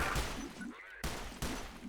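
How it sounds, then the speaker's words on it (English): A stasis grenade goes off in the video game Entropy: Zero 2: a loud, close burst of noisy crackling that dips briefly, then cuts back in with two sharp, abrupt bursts, against steady game background noise and with no talking. "Stasis grenade went off, and it freezes this NPC here."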